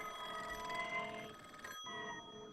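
A telephone bell rings in steady repeated trills, fairly close and clear, with a brief break near the end before the ringing resumes.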